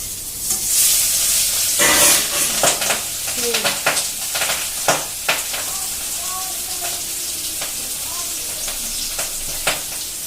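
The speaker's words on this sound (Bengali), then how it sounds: "রিঠা মাছ ভীষণ ফোটে, তেল ভীষণ গায়ে ছিটকে আসে" Rita fish frying in smoking-hot oil, a loud steady sizzle broken by sharp spattering pops and crackles, with bursts of clattering in the first few seconds.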